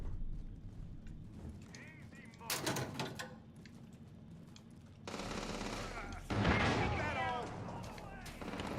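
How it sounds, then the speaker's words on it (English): Bursts of gunfire crackle through a busy game soundscape, with a loud burst near three seconds and heavier firing toward the end. "I'm hearing gunshots."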